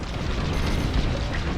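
A missile hit explosion during a space dogfight in the video game Star Wars Squadrons, a brief dense roaring boom lasting under two seconds with engine noise around it.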